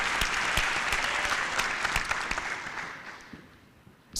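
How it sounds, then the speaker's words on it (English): Applause from the floor of a conference hall at an international internet governance forum, a steady wash of many hands clapping that thins out and fades toward the end. "Round of applause to the representative of Pakistan."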